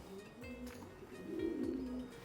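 Racing pigeons coo softly in a loft, a few low throaty rolling calls overlapping, moderately close, with light background noise and no talk.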